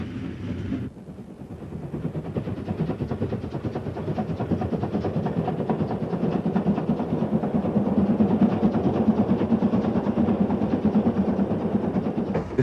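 A Hungarian MAV Class 411 consolidation steam locomotive hauling a freight train, a loud continuous rumble and rhythmic clatter that builds steadily and stays close, with no voices.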